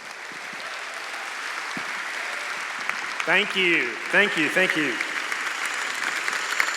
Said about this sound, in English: I want you to give a round of applause to our friend Mark Miller